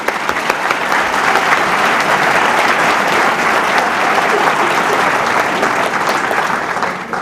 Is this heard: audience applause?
yes